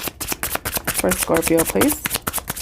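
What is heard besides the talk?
shuffling cards for a reading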